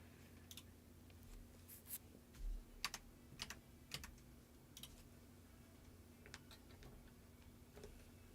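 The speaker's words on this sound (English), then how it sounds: "he was just typing something, wasn't he?" Keys are typed in the video game Children of Clay, with sparse, irregular clicks that sound faint and close over a low steady hum.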